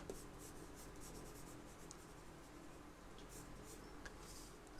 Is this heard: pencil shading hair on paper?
yes